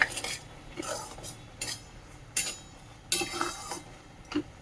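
A spoon scrapes and clinks in a pan as sugar is stirred into a sweet bread mixture, a series of short bright scrapes at a steady, unhurried pace, close and fairly quiet with no talking.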